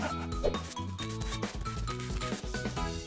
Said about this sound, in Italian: Sega un righello